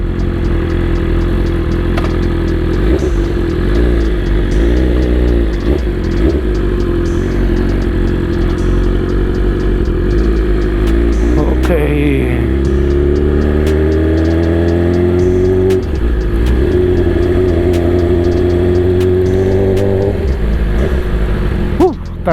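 BMW S1000RR M Package superbike engine, rev-limited on a test ride, droning steadily and close up, with its pitch rising through the gears as it accelerates over a continuous wind-and-road roar.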